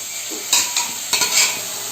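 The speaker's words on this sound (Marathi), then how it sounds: "आता ही भाजी गरम गरम आहे ना कढईमध्ये टाकायची." Boiled vegetables, horse gram with raw mango, go into a hot kadhai along with their water and sizzle loudly, with several short hissing bursts over a steady frying hiss close by.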